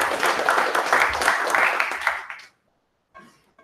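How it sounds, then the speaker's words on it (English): Applause from a startup meetup audience, a dense crowd clapping for about two and a half seconds that cuts off abruptly, followed by silence and a brief faint sound near the end. "Give applause to Trevor."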